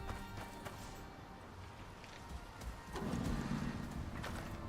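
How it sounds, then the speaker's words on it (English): Inside a house in the game Icarus, a horse's hooves clop on the floor in a loose, uneven run of close knocks, growing louder near the end, with no voices. "When I was remodeling, I somehow ended up with a horse in the house."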